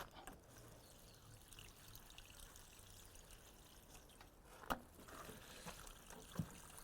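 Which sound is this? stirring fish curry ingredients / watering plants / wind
watering plants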